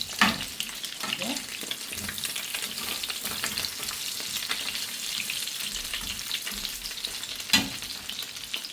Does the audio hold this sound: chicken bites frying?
yes